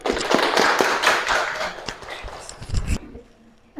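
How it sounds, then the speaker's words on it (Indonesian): A small group claps in a short burst of applause, the patter fairly close and lively before cutting off abruptly into quiet. "Tepuk tangan."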